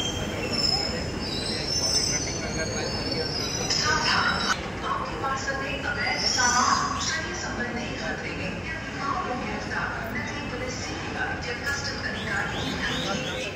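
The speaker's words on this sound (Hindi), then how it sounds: "तो अभी आनंद विहार टर्मिनल से मेट्रो जाने वाली है।" A Delhi Metro train at Anand Vihar terminal, its wheels squealing on the rails with steady rumbling carriage noise throughout, loud and close, with faint voices in the background.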